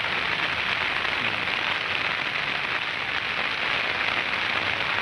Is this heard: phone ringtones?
no